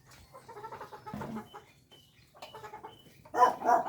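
A backyard hen clucks nearby in short, uneven bursts with brief pauses, ending in a louder run of clucks.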